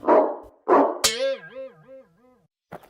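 A big dog gives two short gruff barks followed by a long wavering whine or yelp that rises and falls, then a brief final yip after a pause, close and loud with no speech.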